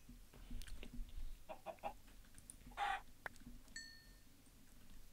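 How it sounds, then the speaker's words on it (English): Chickens clucking in a Minecraft UHC match, several short scattered clucks and squawks at low level, with faint game sound effects between them. "Oh my god, so many chickens."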